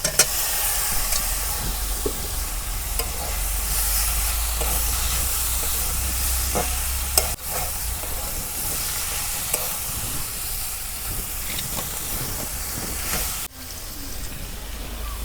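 Dried fish hitting a hot pan in a village kitchen gives a steady, loud sizzle with stirring scrapes, holding for the whole stretch with a couple of brief knocks and no talk.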